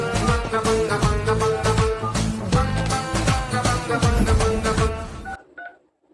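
A phone call's ringback plays as a loud, continuous, music-like tone for about five seconds, then cuts off abruptly into near silence with a couple of faint beeps.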